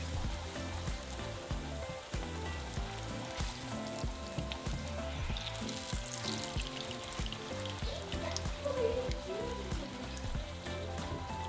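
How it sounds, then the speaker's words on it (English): A tortilla frying in hot oil, a dense continuous bubbling sizzle close by, steady and fairly loud throughout. "once our oil is hot, we're going to throw in our tortilla"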